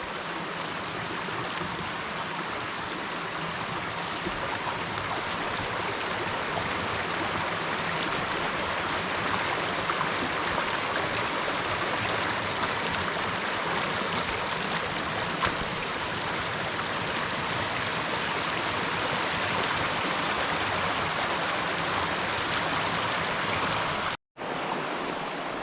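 Buckhorn Run, a stream crossed by a canal beside an old mill dam, rushes in a steady, full-bodied flow of water for about 24 seconds, then cuts off abruptly. No voices.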